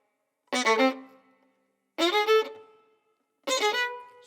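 On the violin, a passage is played in groups of three notes: three separate bright, quick bursts spaced evenly apart, each ringing briefly before silence, close and clear with no talking.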